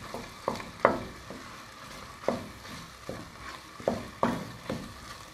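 Tomato paste stirred into chicken curry in a sizzling pan, with a spoon scraping and knocking against the pan in irregular strokes over a soft frying hiss, close and without talk.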